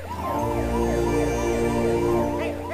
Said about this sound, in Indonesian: Bahkan dikala Dharma sedang dibawa ke rumah sakit menggunakan mobil ambulans